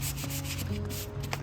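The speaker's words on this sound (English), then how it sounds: "I start by sanding with 220 grit, just to give myself a nice clean surface before a second coat of paint" Hand-sanding a painted wooden chest of drawers with 220-grit paper, a short continuous rubbing scratch at close range, steady and even, no talking.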